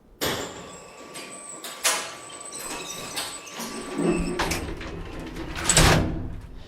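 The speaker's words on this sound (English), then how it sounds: "Doc opens the door." A door in an old apartment building being opened, with clunks of the latch and handle and a scraping swing, followed by rustling and thumps, moderately close.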